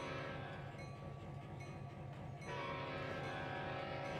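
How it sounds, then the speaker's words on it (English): A train runs in the Trainz simulator game, giving a steady dense rumble of rolling wheels and engine drone with a faint sustained horn-like tone, loud and continuous throughout. "since I've driven a train in Trainz"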